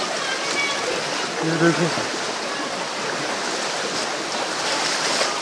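Cold stream water flowing over pebbles inside Robber's Cave near Dehradun, a steady loud rushing wash while someone wades through, with someone speaking briefly over it.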